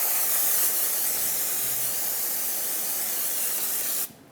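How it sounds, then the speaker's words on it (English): Brake parts cleaner is sprayed onto a brake caliper of a Ford E-350 Super Duty in one steady, close hissing blast that stops abruptly. "Use brake parts cleaner for this."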